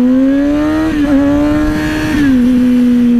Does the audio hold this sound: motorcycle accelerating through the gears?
yes